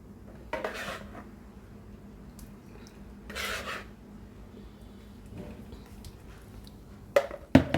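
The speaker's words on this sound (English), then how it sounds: "Rub this in nicely, nice and liberal on both sides" Bare hands rub marinade into raw chicken breast, making soft, quiet, intermittent squelching and rubbing strokes in short bursts, with a few sharper handling noises near the end.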